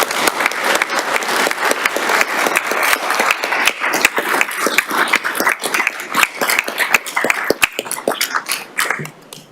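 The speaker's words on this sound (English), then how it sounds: "Another round of applause for this" Steady applause from an audience at a town council meeting, dense clapping filling the room for several seconds before tapering off near the end, with no talking over it.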